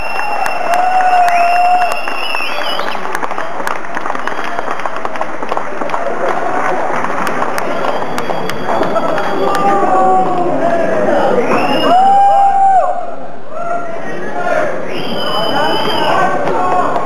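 A concert audience at a live show at the Loreley in 2008 cheers, whoops and applauds loudly and continuously, with raised voices and shouts carrying throughout and a brief dip near the end.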